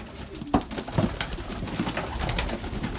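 Belgian racing pigeons coo in a loft, several soft, low throaty calls rising from a busy background of rustling and wing movement, fairly close.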